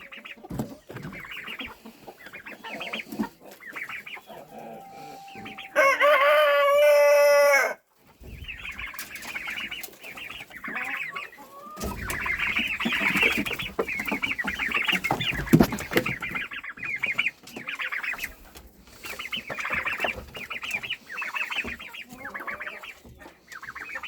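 Chickens cluck and squawk continuously nearby on a farm, with one loud, sustained screech partway through and a brief quiet gap before the flock's noise resumes.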